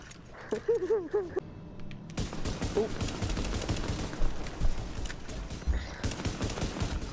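Pistol gunfire in The Division, heard as a fast stream of sharp reports that begins abruptly after a brief voice and continues densely, with voices cutting in over it.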